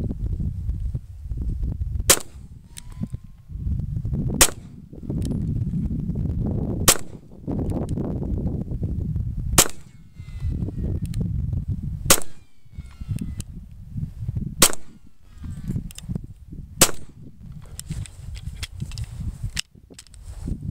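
Single pistol shots from a Smith & Wesson Shield handgun fired outdoors, sharp loud cracks spaced a couple of seconds apart over a constant low rumbling background.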